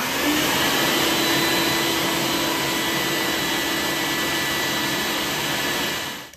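An egg washing machine runs with eggs inside on a farm, giving a loud, steady broadband whir and rush that holds constant for about six seconds before winding down at the end.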